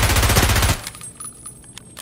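A rapid burst of automatic gunfire comes from the Escape From Tarkov video game, loud and close for under a second. Fainter scattered shots and clicks follow.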